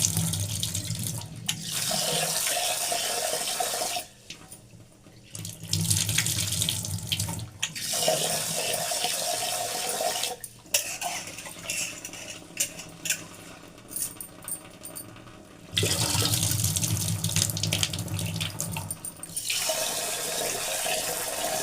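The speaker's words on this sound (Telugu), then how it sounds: "చేపలు కడిగేసి నానబెట్టేసుకుంటాయండి" Tap water runs into a sink while fish are washed for a Konaseema-style fish curry, a steady close gush broken by brief pauses and clinks as the flow is interrupted.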